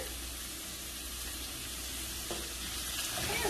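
Garlic, shallot and ginger frying in a pan for a shrimp and glass noodle dish, a steady broadband sizzle holding level throughout with a faint scrape or two near the end, no voices.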